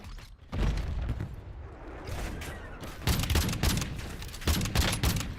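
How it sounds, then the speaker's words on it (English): Video game gunfire in a battle-royale match, with bursts of rapid shots and booms arriving in clustered volleys, loud and dense, with a quieter gap before the firing resumes. "Taking effective fire."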